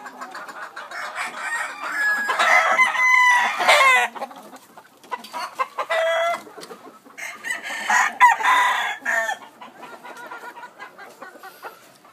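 Several Peru gamefowl roosters crow loudly and close by, with long strained calls overlapping amid busy clucking from other fowl, no talking.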